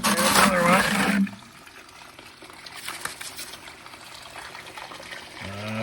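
Dirty water flows and trickles during no-shovel gold prospecting, a soft continuous wash and dribble heard after a voice stops, faint and steady, with his voice returning briefly at the end.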